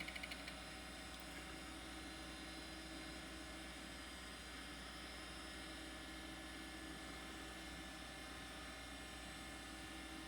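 A 1987 Macintosh Plus-era hard drive spins up with a steady, droning whir, holding a constant hum with faint high whine throughout, no voices present.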